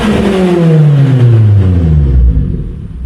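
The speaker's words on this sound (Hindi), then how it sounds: "इस गाड़ी के अंदर प्रॉपर एक एग्जॉस्ट सेटअप लगाया गया है जिसकी साउंड आपको मैं सुनवाता हूँ" A 2016 Suzuki Swift fitted with an aftermarket exhaust revs loudly up close, its engine note climbing steadily then easing off toward the end, with no talking.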